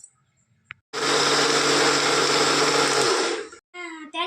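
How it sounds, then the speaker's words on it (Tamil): A mixer grinder whirs loudly for about three seconds grinding rice with coconut, starting abruptly and winding down, with brief talk before and after. "அரிசியோட இந்த தேங்காயை போட்டு அரைச்சிக்கலாம்."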